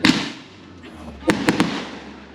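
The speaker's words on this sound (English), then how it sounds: "Fireworks, eh?" Fireworks go off at a border crossing into Argentina, heard as one sharp burst at the start and then three quick cracks in a row, somewhat distant over a steady low background rumble.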